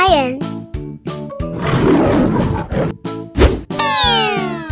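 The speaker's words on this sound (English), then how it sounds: "Lion." A rough, noisy roar rises over a bouncy musical backing, followed by a sliding cartoon-like sound effect.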